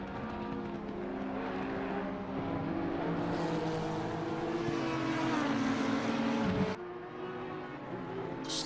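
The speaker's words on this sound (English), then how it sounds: "listen to those cars, man, as they go by" Race cars in the Assetto Corsa Competizione sim racing game, an Acura NSX among them, roar past on the Hungaroring circuit, a loud, continuous engine drone with rising and falling pitch that cuts off abruptly and then resumes.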